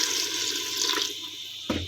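Water pours from a container into a pot of chicken and potato curry, a brief, close gushing splash that fades before a short clatter at the end.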